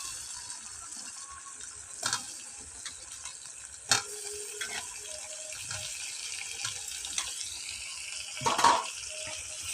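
Tomato fries with ginger, dried red chilli and bay leaf in a pan for khichuri, a steady low sizzle with occasional sharp clanks and scrapes of stirring, close and moderately quiet.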